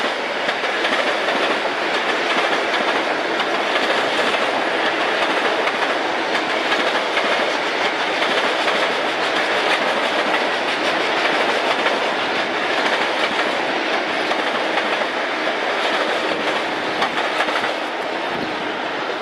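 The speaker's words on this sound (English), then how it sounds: "Got a westbound coming from Port Washington on the far track." A westbound LIRR train from Port Washington rolls past on the far track of the main line, a loud, sustained rumble with clickety-clack wheel rhythm that holds steady throughout.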